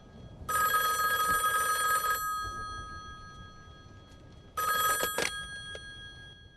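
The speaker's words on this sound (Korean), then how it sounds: "전화벨이 정막을 깨고" A telephone rings in a scene from the film The Matrix, two long electronic trilling rings separated by a pause in a quiet room, fairly faint, with no talking.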